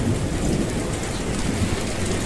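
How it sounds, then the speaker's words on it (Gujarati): Heavy rain pours steadily with low rumbling thunder rolling underneath, a dense, continuous roar throughout. "થોડી જ વારમાં વરસાદ તૂટી પડ્યો"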